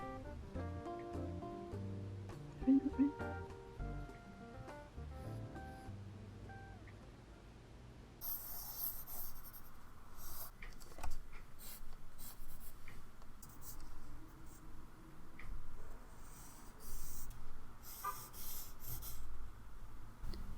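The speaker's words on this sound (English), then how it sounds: "One of my favorite ways to sketch something is to build the shapes with a really light colored pencil crayon, like yellow, pink, moss green" Colored pencil sketching a bird on paper, soft scratchy strokes rasping steadily and close up, with quiet music fading out early.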